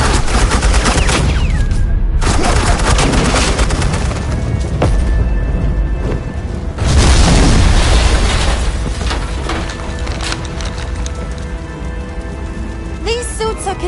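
Sustained suppressing gunfire in the Batman: The Enemy Within game, dense crackling volleys with booms that run continuously for about fourteen seconds under a rain-like wash of sound.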